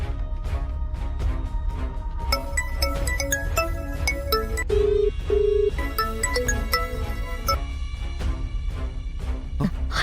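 Phone handset placing an outgoing call, a series of ringback tones and beeps sounding in bursts over a low background hum, with no one talking.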